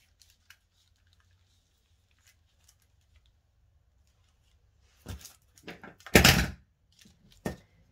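Silence gives way to a cluster of close clicks, snips and a sharp clatter as scissors are handled and set down, then one last knock.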